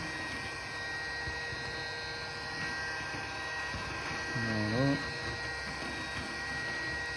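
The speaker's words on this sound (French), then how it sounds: "je vais mettre un petit coup de décapeur thermique. Hop. Donc je le mets à 300 degrés." A heat gun set to 300 degrees blows on an iPhone 12 Pro Max to soften its waterproof seal, a faint, steady airy hiss with a brief spoken word near the end.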